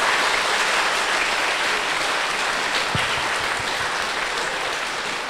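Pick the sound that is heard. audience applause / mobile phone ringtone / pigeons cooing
audience applause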